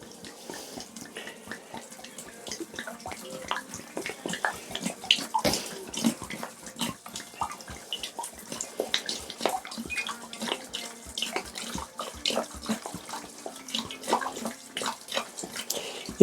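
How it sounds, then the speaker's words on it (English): Water from a tap splashes into a bucket holding coir for soaking, a faint, irregular trickle and patter with small bursts that continues throughout. "I'll put in about a gallon of water, and we'll let her soak"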